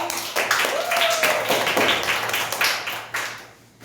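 Several small hands clap in an uneven burst during a children's class prayer, with children's voices chattering and calling over it.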